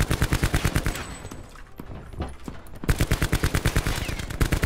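Rapid automatic gunfire in a Black Ops 4 prop hunt match, loud regular bursts of evenly spaced shots, pausing briefly mid-clip before another sustained volley.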